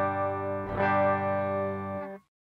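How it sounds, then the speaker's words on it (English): An electric guitar played through effects and recorded into music software: one sustained chord rings out with a shimmering, chorus-like distorted tone and a brief louder strum midway, then cuts off abruptly. "So there's my guitar."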